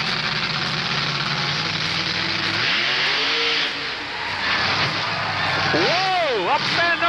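The Borus monster truck roars through a wheel stand run in an arena contest, its engine revving hard with rising and falling pitch sweeps, loud and close, while an announcer speaks over it.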